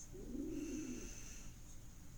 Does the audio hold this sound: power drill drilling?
no